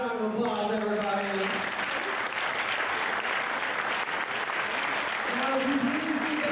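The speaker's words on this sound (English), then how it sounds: "if you please keep those applause going" Wedding reception guests break into sustained, full applause that fills the room for several seconds, with a voice speaking just before it swells and again as it begins to fade.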